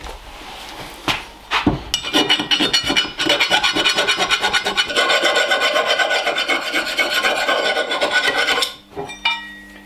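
A file rasps along the wooden handle of a Rinaldi axe in fast, continuous back-and-forth strokes, close and loud, after a few scattered scrapes and knocks at the start and a brief pause near the end.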